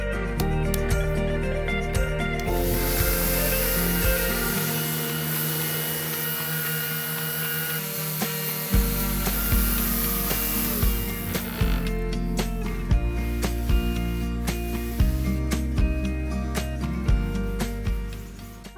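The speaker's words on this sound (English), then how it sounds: "I'm only showing you a little bit of the footage of me sanding. This took a while because it's oak" Power sanding of an antique oak furniture piece, a steady loud whirring drone running throughout with shifting pitch and scraping texture as the sander moves across the wood.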